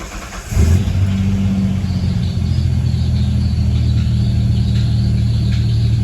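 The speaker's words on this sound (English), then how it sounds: "Something is squealing. Is that the belt?" A Ford Ranger's engine, started after sitting nine months and said to have a squealing belt, catches just under a second in and then runs loud and steady with a constant low rumble.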